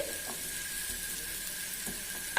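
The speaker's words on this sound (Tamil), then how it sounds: "அந்த மிளகு தூளுக்கும் அந்த கேரட்டு கொத்தமல்லி தழை எல்லாம் எண்ணெயில் நல்லா வதங்கி அந்த பொரிஞ்சு" Carrot, coriander leaves and pepper powder fry in oil for a chickpea sundal, giving a steady soft sizzle like hissing water with faint clicks and no talking.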